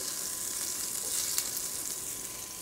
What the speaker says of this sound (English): The first things I'm going to add to this are my broccoli